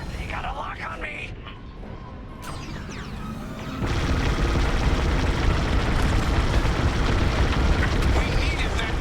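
A satellite dish blows up in the space-combat game Star Wars: Squadrons, a heavy explosive roar that swells abruptly and stays loud and dense to the end after quieter cockpit noise and high sweeping tones.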